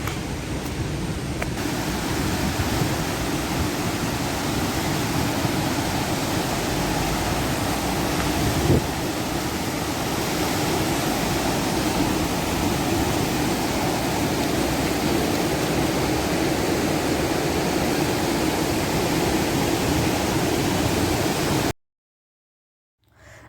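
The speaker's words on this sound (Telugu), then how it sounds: "విన్నారు కదా వాటర్ ఆ సౌండ్ వింటుంటేనే అర్థమవుతుంది ఎంత హెవీ ఫ్లో ఉంది" Heavy flow of a stream over rocks on a nature trip on the way to Kukke Subramanya, a loud steady broadband rush filling the scene without a break, then cutting to silence at the very end.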